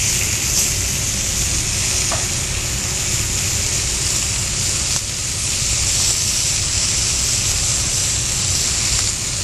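Chicken sizzles on a grill with a loud, dense, unbroken hiss held steady throughout, close up and with no voices.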